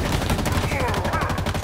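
Rapid gunfire in the Halo Infinite video game, a dense stream of shots that empties a clip, close and loud throughout the short burst.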